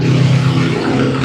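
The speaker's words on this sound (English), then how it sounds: "V16 motors on a boat." Twin V16 engines on a boat rev with a loud, deep, steady droning roar that holds throughout with no talk.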